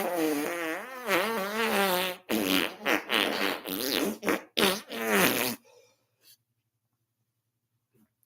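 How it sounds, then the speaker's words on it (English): Several loud, drawn-out farts in quick succession, each wavering in pitch, fill the first half, then give way to near silence with only a faint trailing sputter. "Jordan let out some loud farts."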